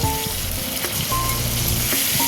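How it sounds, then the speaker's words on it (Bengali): Potatoes and tomato frying in mustard oil with black cumin in a pan, a steady close sizzle running throughout with light stirring, no voices. "এবার হালকা একটু লাল লাল করে একটু ভেজে নেব। দিয়ে দেবো টমেটো,"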